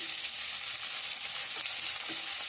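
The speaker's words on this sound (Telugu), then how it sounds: "మనకి పచ్చిమిరకాయలు అయితే వేగిపోయి ఇప్పుడు ఉల్లిపాయలు కూడా వేసేస్తున్నాను" Onions fry in hot oil alongside green chilies, making a steady, close, bright sizzle with light crackling and no voices.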